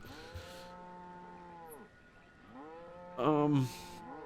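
Cattle mooing in a farming video game, several long harmonic moos one after another over a steady low background hum, the last one loudest and nearest.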